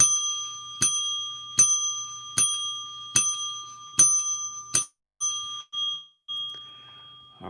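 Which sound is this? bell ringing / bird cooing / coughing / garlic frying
bell ringing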